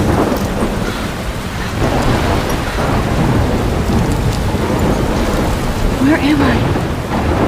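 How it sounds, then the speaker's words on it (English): A heavy thunderstorm pours down on the woods in the video game Life is Strange, with dense rain and deep rolling thunder filling the scene loudly and continuously, and a voice speaks briefly over the storm. "Middle of a storm in the woods."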